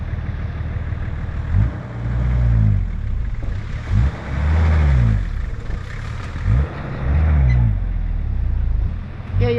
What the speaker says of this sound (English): I'm going to try and drive it back and forward.